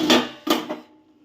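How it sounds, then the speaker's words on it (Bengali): A metal lid is lifted off a cooking pot of steamed hilsa fish, making two quick, close metallic clinks a moment apart that ring out briefly and fade, with no talking. "ঢাকনাটা খুলে দেখি।"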